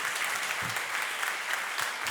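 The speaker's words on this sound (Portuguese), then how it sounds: "Vamos aplaudir ao Senhor" A church congregation claps together in a continuous dense patter, fairly soft and even, with no voices standing out.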